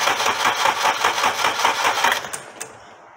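A Honda K20 engine, out of the car from an Acura RSX, cranks on its starter during a compression test, giving a close, steady run of rapid rhythmic chugs for about two seconds before stopping abruptly.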